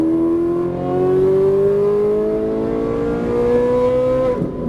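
A Ferrari 458 Italia engine pulls steadily on a track, its pitch climbing smoothly in one long, loud, close acceleration before easing off at the end, with no voices heard.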